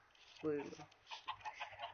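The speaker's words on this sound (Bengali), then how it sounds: "আর এটা হলো আমার মুরগি আর ডিমের কারখানা।" Chickens cluck in a video game chicken and egg farm: one loud, close squawking burst, then a run of softer, scattered clucks.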